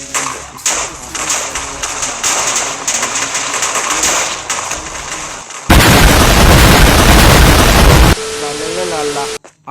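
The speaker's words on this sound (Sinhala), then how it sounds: "හොඳට පිපිරුව දැක්කද" A loud video game explosion blasts out in a sustained roar, then tails off into rumble, following a stretch of busy game sounds and gunfire.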